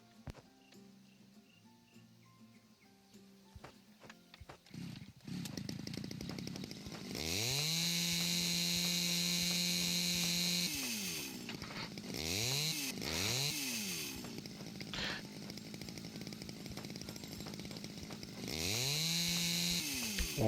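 In the video game House Builder, a chainsaw chops logs, idling low before revving into a loud, sustained buzzing whine with repeated dips and surges in pitch, and no talking over it.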